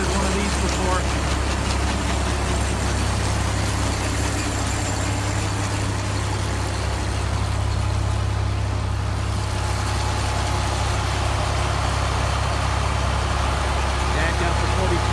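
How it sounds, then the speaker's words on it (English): A John Deere 4020 tractor engine runs at a steady, loud, low diesel rumble with no change throughout, close by, with people talking over it. "Dad got the 40/20 going."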